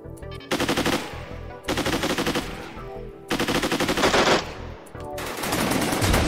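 Colonists in RimWorld fire on a mechanoid in rapid automatic bursts, loud and repeated, several volleys rattling in quick succession with short gaps between them.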